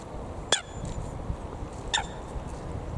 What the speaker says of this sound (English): It was a bit of a loud quack though, wasn't it?